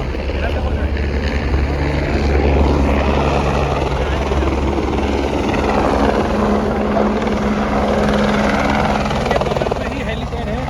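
A helicopter runs at a mountain helipad beside Kedarnath temple, its loud rotor and engine drone steady and close throughout, with people talking over it.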